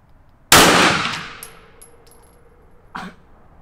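A single handgun shot fired at a target: one sharp, loud crack with a ringing tail that fades over about a second, followed by a faint small clink.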